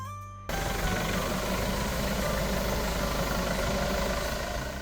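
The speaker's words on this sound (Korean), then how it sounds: "일반 교회에서는 보기 힘든 트랙터 그것도 목사님이 직접 운전하시다니" A tractor engine at a rural church in Cheonan starts up and idles with a steady, loud diesel chug and rumble, close by and continuous.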